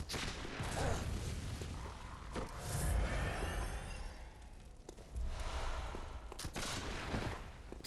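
Gunfire in the video game Bloodborne: several sharp reports crack through a dense, noisy game soundscape at irregular intervals.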